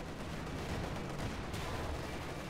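Tank cannon fire and battle noise in Company of Heroes 2, a Panzer IV trading shots with a T-34, heard as a continuous dense rumble of gunfire and explosions without talk.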